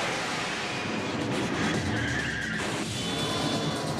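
Bond's gadget-laden car in Tomorrow Never Dies skids, giving a brief rushing, hissing slide of tyres over a low engine rumble, moderately loud and steady.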